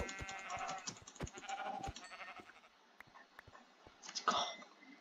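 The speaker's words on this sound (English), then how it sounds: "Oh my god, another sheep." Sheep bleat in the Minecraft video game, a few short nasal bleats in quick succession, fairly close and clear, with a brief pause before a final bleat.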